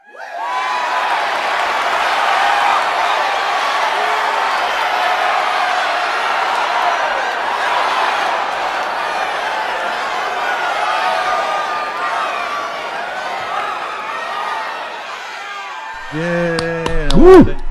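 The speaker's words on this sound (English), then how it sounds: "Applause." Dense crowd applause and cheering welcome a podcast guest, the High Priest of the Church of Satan, holding steady and loud for about sixteen seconds before a voice begins talking over it.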